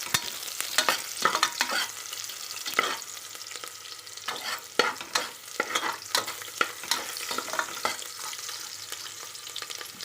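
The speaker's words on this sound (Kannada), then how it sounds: "ಇವಾಗ ಈರುಳ್ಳಿ ಒಂದು ಸ್ವಲ್ಪ ಫ್ರೈ ಮಾಡ್ಕೊಬೇಕು." Onion frying in a pan crackles and sizzles as it is stirred, with frequent uneven scrapes and clatters of the spoon over a steady hiss, close and fairly loud.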